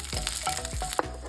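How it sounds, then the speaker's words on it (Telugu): Tempering spices spatter and crackle in hot oil in a pan, with a few scraping stirs over a steady sizzle, brief and fairly quiet. "ఫస్ట్ ఒక ప్యాన్లో ఆయిల్ వేసుకొని పోపు వేసుకుని ఒకసారి ఫ్రై చేసుకోవాలి"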